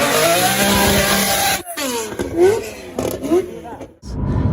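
A BMW F80 M3 with its S55 engine revs on a track, rising and falling in loud, near pulls with brief gear-change dips, while people talk over it.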